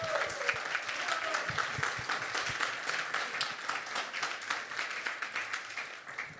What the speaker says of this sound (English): Can I get a round of applause for Remo and Soin?